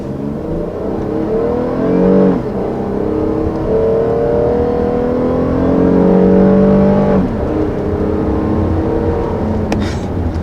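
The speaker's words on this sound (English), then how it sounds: "So first taking off here in this all-new Highlander" A naturally aspirated 3.5-liter V6 engine in a 2020 Toyota Highlander SUV revs and pulls away from a stop, its droning note climbing steadily in pitch as it accelerates, loud and close throughout.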